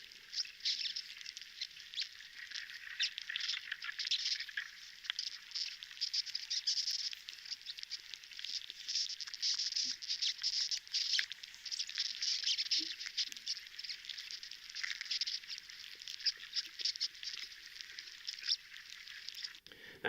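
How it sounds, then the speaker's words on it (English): Bark beetles recorded inside pine trees, giving a dense, faint patter of tiny clicks and scratches that runs steadily throughout, with no voices. "They simultaneously invite us to feel wonder at the complex sound world of the tiny beetles and horror at the destruction going on inside the trees."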